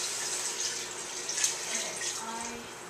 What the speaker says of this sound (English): we're about to put a lot of water in this thing